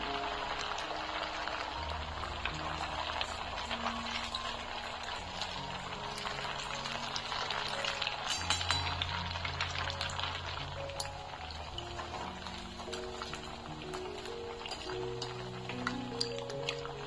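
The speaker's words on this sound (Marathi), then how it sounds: "पुढं तसं वरून तेल सोडायचे आणि वडे छान असे तळून घ्यायचे" Potato and semolina vadas frying in hot oil in a pan on a gas stove, a steady soft sizzle and bubbling, faint and even throughout.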